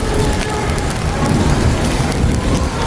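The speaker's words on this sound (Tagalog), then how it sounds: "Tapos naambon-ambon pa, di ba?" Light drizzle falls outdoors at midday, a steady broadband patter of rain that holds evenly throughout with no voices.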